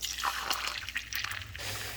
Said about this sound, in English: I'm pouring the puff pancake in there and putting it back in the oven.